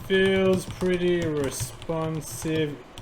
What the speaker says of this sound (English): What do you think of the sound? It gives you that feedback you wouldn't normally have from a normal keyboard.